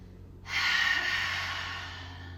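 A yoga student breathes out in one long, airy exhale that starts abruptly and fades gradually, close to the microphone, with no talking over it.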